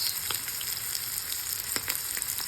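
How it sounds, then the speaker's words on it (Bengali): Mackerel fries in a pan with a steady, close sizzle and occasional small pops, and no one speaks. "ম্যাক্রেল ফিশ রান্না করা হচ্ছে।"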